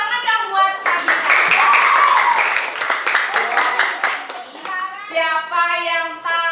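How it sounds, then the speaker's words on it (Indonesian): A classroom of pupils claps for a classmate, Nabila, with a burst of quick, loud, overlapping claps, and children's voices and speech are heard around it. "Tepuk tangan dong buat Nabila."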